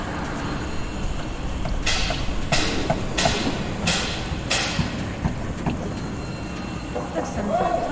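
A train sound effect, like a small steam engine pulling out of a station, gives a series of rhythmic chuffs over steady rumbling noise, with a voice partly mixed in.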